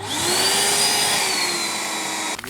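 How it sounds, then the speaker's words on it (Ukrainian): A DeWALT DXV234P vacuum cleaner, running without its cyclone separator and switched to blower mode, runs loud and steady with a high whine, cutting off abruptly near the end. "ну а тепер запускаємо пилосос без циклона"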